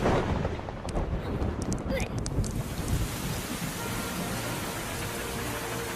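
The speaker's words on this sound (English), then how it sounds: "Rain! Oh, thank you!" Rain and thunder in a Larva cartoon: a loud, dense rush of downpour with deep rumbling underneath, steady throughout, with brief high crackles early on.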